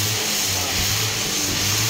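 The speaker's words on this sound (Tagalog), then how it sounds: "Saka mapakaramdaman mo sir yung ugong ng makina." A car engine hums steadily up close with a low, continuous drone and slight rises in pitch as it revs, with no talking.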